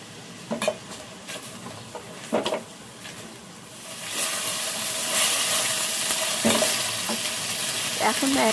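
Egg chicken fried rice is stir-fried in a pan, with a few scraping strokes of a spatula followed by a steady loud sizzle that keeps running, punctuated by more metallic scrapes, and no talking.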